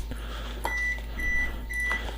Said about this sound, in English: we just heard the buzzer say it's ready